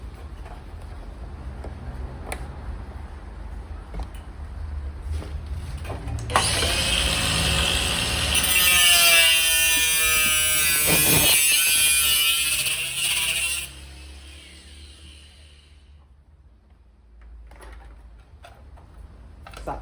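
Grinding down a steel panel on an Escort RS Turbo during a rear-wheel-drive conversion: an angle grinder's loud shrill whine rises in the middle and holds for several seconds, then fades, with workshop clatter before and after.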